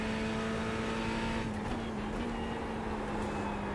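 The Ferrari GT3 race car in iRacing drones at a constant high engine note, the pitch easing down slightly then stepping back up, loud and steady throughout.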